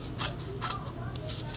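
Large tailor's scissors snipping felt around a styrofoam ball, two or three crisp close cuts, quiet, with a voice talking over them.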